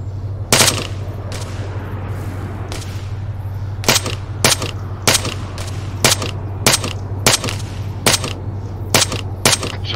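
Gunfire in the military shooter Arma 3: a series of about a dozen sharp, loud single shots spaced irregularly over a steady low hum, with no talk.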